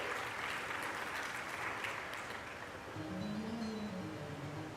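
Audience applause at a Shrimad Bhagwat Katha religious discourse, a steady wash of clapping from a crowd heard at a moderate distance, continuous throughout with no talk over it.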